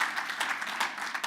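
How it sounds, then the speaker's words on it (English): Audience applause for the companies at the 2019 PACT Phorum Demo Pit, steady dense clapping from a crowd with slight swells, nearby and fairly loud, with no talk over it. "So round of applause for all the companies"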